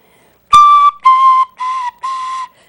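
Simple pinched-end whistle with same-size finger holes playing four short notes, near and clear, with a slightly breathy, wavering pitch and brief gaps between notes.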